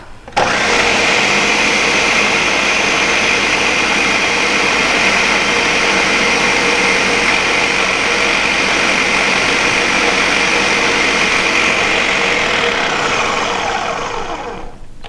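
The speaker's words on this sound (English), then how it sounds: "let this work again on our blender just to get that right consistency" A kitchen blender purees baby food with a little water, running as a loud, steady high-pitched whir for about fifteen seconds before spinning down at the end, with no talking.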